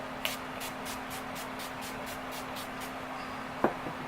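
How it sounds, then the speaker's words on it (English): Ruby Kisses setting spray is pumped onto a face in a quick series of about a dozen soft, evenly spaced spritzes. The mists are faint and close over a low hum, and one sharp click follows. "I'm going to spray this all over my face"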